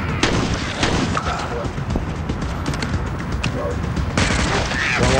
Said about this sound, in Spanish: Vamos a disparar.